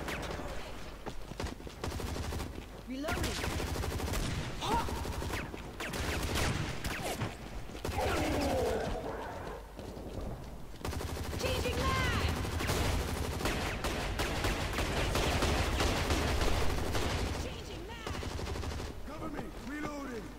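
Gunfire in the video game Hazard Ops, sustained loud bursts of rapid automatic shots in a dense game mix, with voices talking over the shooting.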